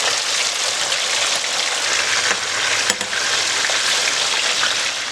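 Fish frying in hot oil in a pan while Liberian dry rice is prepared, a steady dense sizzle and crackle running throughout with no talk, one brief louder pop near the middle.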